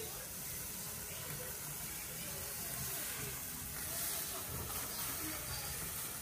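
Barbecue meat sizzles crisply over an open fire, a faint but unbroken hiss that stays level throughout.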